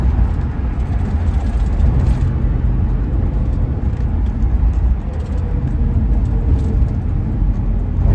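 A 1974 Pontiac Trans Am engine rumbles steadily from inside the car on a ride-along, a loud low-pitched drone that holds constant through the whole stretch with no talking.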